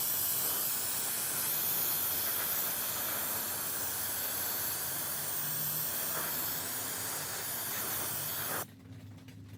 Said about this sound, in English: just get a can of carb cleaner